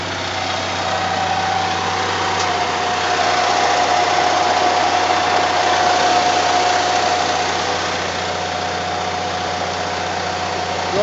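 Diesel engine of a Telsta boom truck running at a steady idle while the boom rotates, a continuous close-up drone with faint mechanical whine and no talking.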